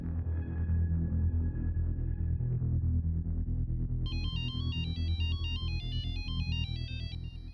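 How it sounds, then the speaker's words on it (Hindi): A phone ringtone plays at night, starting as a low murky passage and then shifting to a bright, repeating electronic melody that carries on steadily to the end, with no talking. "इतनी रात को फोन किया?"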